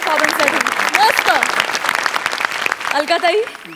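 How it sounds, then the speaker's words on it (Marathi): An audience applauds after a Marathi comedy sketch performance, with loud clapping running throughout while a person speaks over it. "जोरदार टाळ्या या परफॉर्मन्ससाठी"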